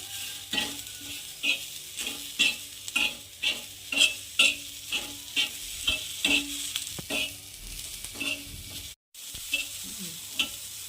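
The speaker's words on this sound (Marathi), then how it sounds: "छान हलवत राहायचं आहे असं दोन मिनिट मी हलवत होते" Green chillies and salt are stirred in a hot pan, with a steady sizzle and a regular series of scraping strokes, close and clear, and a very brief drop-out near the end.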